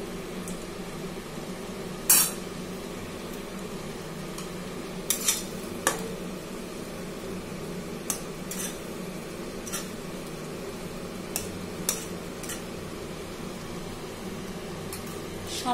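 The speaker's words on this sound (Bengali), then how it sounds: "এরপর দিয়ে দেবো ভেজে রাখা ট্যাংরা মাছগুলো" Fried tangra fish pieces going into a pan and being stirred, with a soft background simmer and scattered sharp clinks of a spatula against the pan.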